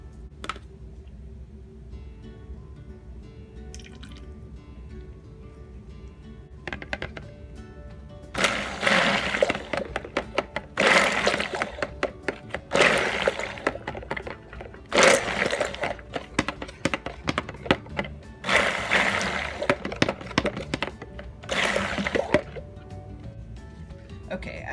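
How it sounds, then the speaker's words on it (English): A stick blender mixes white soap dough in several loud bursts of whirring and churning, with quieter pauses between them and low background noise. "hitting it with the stick blender just really made a difference in the white color"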